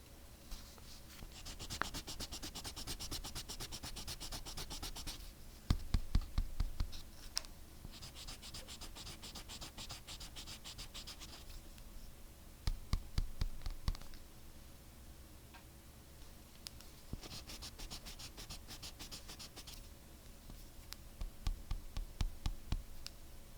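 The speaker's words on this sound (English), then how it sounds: "Let me just erase that line real quick." Pencil eraser rubbing back and forth on drawing paper to remove a line, a soft close scratchy scrubbing in several bursts with brief taps between, no talking.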